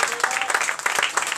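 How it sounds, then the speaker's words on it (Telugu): A church congregation claps in praise, a brief burst of dense, lively applause filling the hall. "మన 2 చేతులు పైకెత్తి నిండు మనసుతో చప్పట్లు కొట్టి దేవుని స్తుతిద్దాం"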